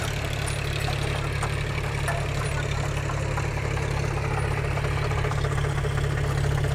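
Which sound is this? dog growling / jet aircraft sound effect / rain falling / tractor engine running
tractor engine running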